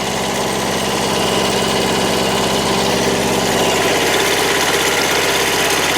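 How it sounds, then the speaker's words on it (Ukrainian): Kubota tractor engine running steadily while digging potatoes in a field, a loud, close, continuous rumbling drone with a throbbing low pulse and no voices. "Куботка наша працює."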